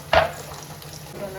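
Peanuts, curry leaves and chili go into a pan with onion for kande poha: one sharp clatter, then a soft, steady sizzle of frying.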